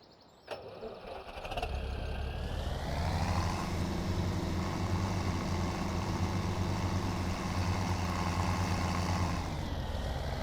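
Tractor in the farming game Farming Simulator 17: an engine catches after a click and settles into a steady, droning diesel rumble with a low hum, holding even and close, briefly revving higher at the end.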